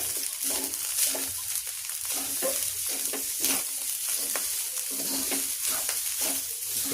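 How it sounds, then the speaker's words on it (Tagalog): Dried shrimp (alamang) fry in a pan for garlic fried rice while being stirred, giving a steady, close sizzle broken by scraping and stirring clicks throughout, with no voices. "Lagay na natin yung ating alamang, dried alamang. Haluin lang ito mga idol."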